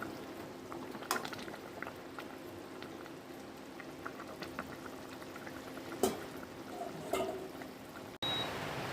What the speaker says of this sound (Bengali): আর এই পাশে দেখো চায়ের জল বসিয়েছি